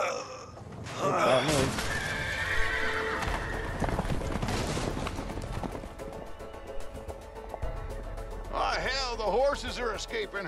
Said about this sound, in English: This might be able to scare the horses.